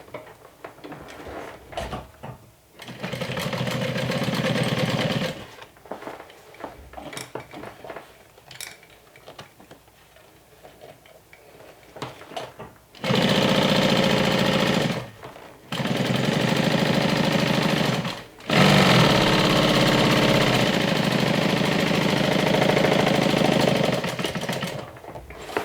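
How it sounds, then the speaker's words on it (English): A sewing machine topstitches a seam allowance toward vinyl on a medium crossbody tote, running in several sustained loud bursts of a few seconds each, separated by pauses with quieter handling noise. "So this seam allowance gets top stitched towards the vinyl."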